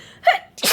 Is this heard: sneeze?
yes